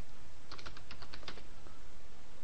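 Typing a paragraph style name on a computer keyboard while working in Adobe InDesign CS5: a quick burst of about a dozen close, light key clicks in the middle, with quiet gaps before and after.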